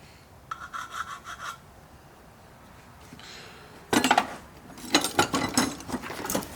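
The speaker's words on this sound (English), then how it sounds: "So just filing it down so it doesn't really destroy it." A file works a rough spot on a clutch part, rasping in short close strokes, first a light burst, then after a pause a louder run of scraping strokes, with no talk.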